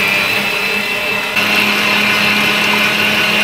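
An electric mixer whips eggs with sugar added a spoonful at a time for a birthday sponge cake. Its loud, steady motor whine runs the whole time and shifts slightly in pitch partway through, with no talking.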